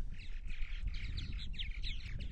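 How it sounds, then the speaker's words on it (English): Purple martins chatter and call at a busy colony on eastern Long Island, overlapping bright chirps and gurgling notes from several birds over a low rumbling outdoor background. "purple martin colonies here on eastern Long Island this morning"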